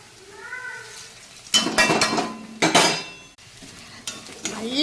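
Dried prawns tossed into a pan with fried crushed chili, a burst of sizzling and scraping stirring after a quiet start, loud and close, with brief pauses between strokes.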